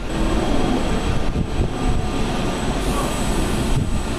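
Panama Canal mule locomotives moving alongside a cruise ship: a steady, loud mechanical rumble and drone with rail-like grinding runs throughout, with no clear break.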